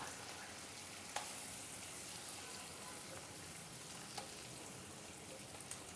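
Stuffed eggplants fry in an Andhra onion and chili paste with garlic, giving a soft, steady sizzle with a few faint clicks from the pan.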